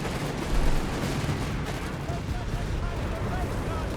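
Dense gunfire and rumbling battle noise from the video game Company of Heroes 3 form a continuous loud bed, with a heavier thump early on, while a commentator speaks over it.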